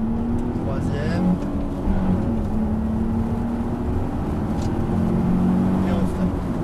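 A car pulls out of a corner during a driving lesson, its engine humming steadily under continuous calm French instruction from the instructor, the tone rising gently as it accelerates.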